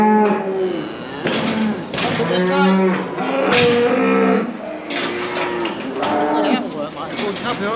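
Cows and calves moo repeatedly as they are let out to the field, several loud, close calls overlapping in irregular succession, some deep and drawn out, others shorter and higher.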